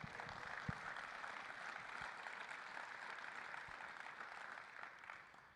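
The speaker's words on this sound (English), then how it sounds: "Give yourselves a round of applause." Conference audience applauding, a dense, even wash of clapping that holds steady for several seconds before tapering at the end.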